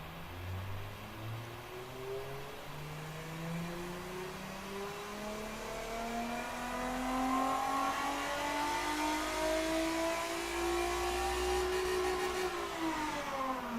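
A 2.5 litre V6 built in the game Automation revs steadily upward and holds a high, smooth pitch, with a clear rising tone and no talk over it.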